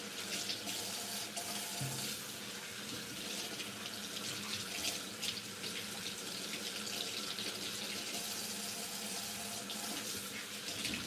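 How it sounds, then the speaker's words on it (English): Water rushing steadily into a kitchen sink as liquid is drained off while making Nigerian moi moi, a continuous, even splashing hiss with no voices. "I want to also drain the water off."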